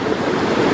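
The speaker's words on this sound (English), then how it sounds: "the added bonus of having a nice tranquil water display here next to the traffic" Splashing water from a decorative fountain display beside a busy road in Doha, heard as a steady, full rushing wash that stays even and fairly loud throughout.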